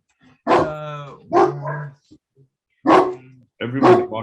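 Several dogs barking nearby in short harmonic bursts, four distinct barks spaced over a few seconds with pauses between, during a talk about witnessing war in Ukraine.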